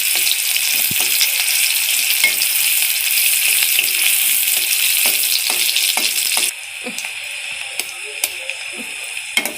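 Onion and chili frying in hot oil for chow mein give a steady, loud hiss of bubbling oil with scattered clicks of stirring, and the sizzle drops noticeably quieter partway through.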